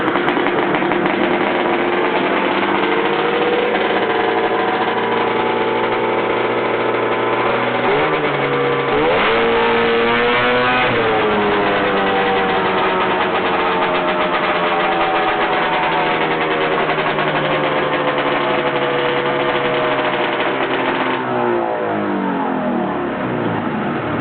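A vintage snowmobile engine runs continuously with a buzzy, raspy note. It revs up sharply partway through and settles back, sounding loud and steady throughout, with no voices.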